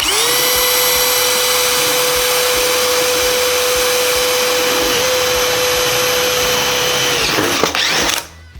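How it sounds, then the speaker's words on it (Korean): A power drill fitted with a reversed, dual-ended drill bit spins at a loud, steady high-pitched whir for about seven seconds, then winds down and stops abruptly. "이럴 때는 반대로 돌려서 이렇게 하면은 최소 5구멍을 더 뚫을 수 있다는 거거든요"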